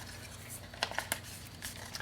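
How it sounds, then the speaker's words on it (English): Scissors snip at an angle through the tab of a paper treat-bag box, giving a few quiet, sharp cuts close by over a faint background hum. "on the tab I'm going to cut the tab part on an angle"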